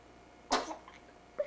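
A baby's small, sharp sneeze bursts out once, followed a moment later by a brief second sound, in an otherwise quiet room.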